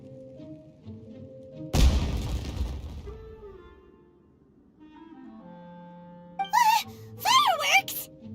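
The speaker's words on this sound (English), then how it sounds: "It sounded like fireworks." Firework explosion in the Genshin Impact video game: a loud burst with a rumbling tail, followed by quiet background music and then high sweeping game effects.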